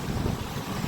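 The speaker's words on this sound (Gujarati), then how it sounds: "અહીંથી જોરદાર પવન આવે" Strong wind gusting through a street lined with buildings, a loud, rumbling, buffeting roar on the microphone with no pause, no voices.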